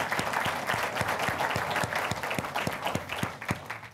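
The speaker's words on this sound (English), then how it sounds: "It's a round of applause for" An audience at a county State of the County event applauds its Board of Supervisors, a dense, even round of clapping with one strong rhythmic beat standing out, fairly loud and close, running the whole time with no talk.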